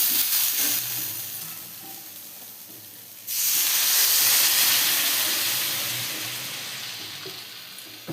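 Water poured into a pan of fried potatoes for an Indian potato curry sets off a sudden loud, steady sizzle and hiss, after a few seconds of quieter frying, then slowly easing.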